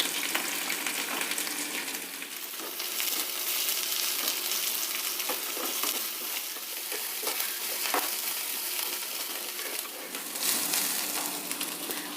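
Onion, mustard seeds and green chilli frying in hot oil in a home kitchen, a steady broad sizzle with occasional stirring clicks and small pops, close and continuous throughout with no voices.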